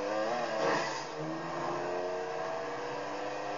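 A video game car engine in GTA 5 hums and revs with a smooth, synthetic tone, rising briefly then holding steady, close and continuous.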